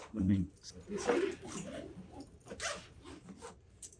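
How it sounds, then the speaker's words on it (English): A heavy-duty zipper on a military cargo backpack with armor plate pockets is pulled in short raspy strokes, faint and close, mixed with soft handling and talk. "We made these zippers a lot more heavy duty too"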